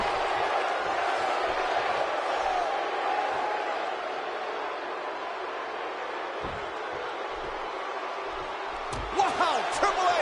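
An arena crowd in the WWE 2K17 wrestling video game on PS4 Pro roars with a steady wash of cheering, while a commentator talks over it and a few slams and impacts hit near the end.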